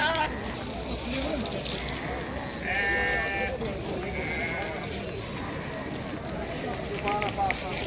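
At a busy livestock market selling sheep and goats, rams and sheep bleat in a few short bursts amid crowd noise and people talking nearby.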